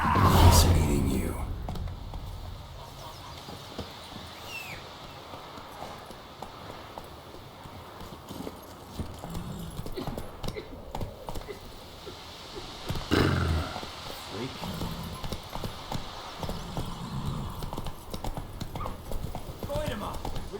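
Horse hooves clip-clopping in The Witcher 3: Wild Hunt, a steady rhythmic trot running under game music and ambient sound, with voices speaking over parts of it.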